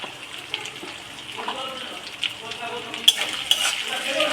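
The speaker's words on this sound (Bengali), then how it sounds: "পরিমাণ মতন লবণ আর পরিমাণ মতন হলুদ দিয়ে মশলাটা ভালো করে কষিয়ে নেব" A spice paste with salt and turmeric is sautéed in a pan, giving a soft, continuous sizzle with scraping stirs and a few clinks of a utensil.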